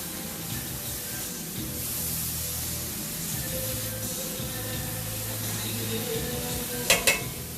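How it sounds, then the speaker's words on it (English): Steady sizzling and frying of corn in a hot skillet, a continuous hiss with faint stirring scrapes, ending in two brief sharp clinks. "So this skillet is still nice and hot and the corn is still frying."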